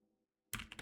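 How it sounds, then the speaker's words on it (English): A short burst of computer keyboard typing, close and crisp, starting abruptly after near silence and lasting about a quarter second during a command-line session. "And now let's type exit."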